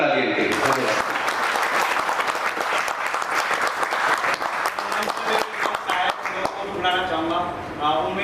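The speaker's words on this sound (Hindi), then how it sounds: "जोरदार तालियां के लिए धन्यवाद।" A theatre audience gives loud, sustained applause after a performance of the play Pannadhay. The dense clapping fills most of the stretch, and a voice speaks as it fades near the end.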